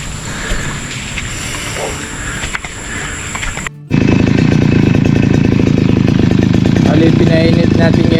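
A grass-cutting motor engine warms up in a garden, starting after a brief gap and running loud and steady with a dense, buzzing drone; quieter outdoor background sounds come before it.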